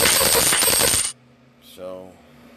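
A burst of many coins dropping and clattering in the Lucky Pusher coin pusher app game, loud and dense for about a second, followed by a short electronic chime.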